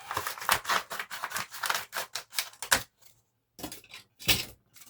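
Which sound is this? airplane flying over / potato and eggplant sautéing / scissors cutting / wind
scissors cutting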